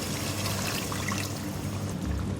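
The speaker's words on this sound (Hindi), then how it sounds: "1 कप पानी डालूँगी इसमें।" Water poured from a cup into a pot of taro root and meat curry, a steady splashing trickle running continuously and fairly close throughout.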